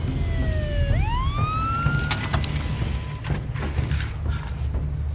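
A police car siren winds up and wails with a rising, sweeping tone over a steady road rumble, then fades into broadband traffic and engine noise.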